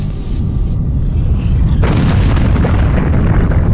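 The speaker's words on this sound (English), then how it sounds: "It shows that the moon started with a bang." A deep, rumbling explosion boom evoking the violent impact that formed the moon, a sustained low roar that swells and fills the whole clip with no talking.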